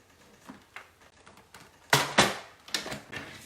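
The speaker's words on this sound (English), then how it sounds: "I'm going to die cut that out." A die cutting machine presses through paper for a mystery stamping card, giving a few short mechanical clunks and crunches, the loudest pair near the middle, with nobody speaking.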